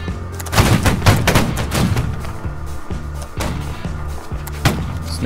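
Musket volleys ring out in Holdfast, a line-battle game, with a dense crackle of many shots at the start and more sharp reports spread through the rest, loud and close.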